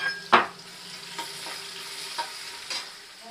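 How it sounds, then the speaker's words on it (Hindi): Garlic frying in a pan with ajwain-style jakhya seeds: a soft continuous sizzle, punctuated by several sharp stirring scrapes at irregular intervals, close and fairly quiet. "लहसुन को भुनेंगे"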